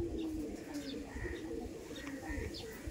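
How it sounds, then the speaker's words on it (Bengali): A Madrasi pigeon coos in short, repeated soft calls close by, set against a steady background murmur, with no clear speech. "দেখুন কতটা অ্যাগ্রেসিভ পায়রাটা, কত সুন্দর লাগছে সানলাইটে।"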